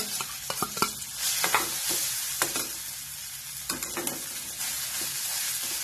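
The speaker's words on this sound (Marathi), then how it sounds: "आता याच्यामध्ये आपण बारीक केलेलं वाटाण्याचं ते घालायचं" Ground green peas for matar puri frying in a little hot oil over medium heat, a steady close sizzle broken by sharp spoon scrapes and knocks against the pan as they are stirred.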